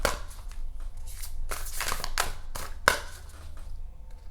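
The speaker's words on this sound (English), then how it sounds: "shuffling these are a pain" Large oversized oracle cards from an ocean-themed deck being shuffled by hand, a series of close, rapid riffling and slapping bursts with a sharp snap near the end.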